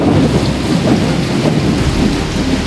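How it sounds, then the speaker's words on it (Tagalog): Loud, dense typhoon downpour with a heavy rumble of thunder and lightning, a thick wall of storm noise close by a hut. "Grabe po yung ulan at kilat."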